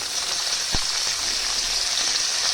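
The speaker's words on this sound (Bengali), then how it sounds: "ওই তেলেই আমি ফুলকপিটা ভেজে নেব।" Cauliflower florets fry in hot oil in a pan, giving a steady, close, hissing sizzle that holds evenly throughout, with one sharp tap near the start.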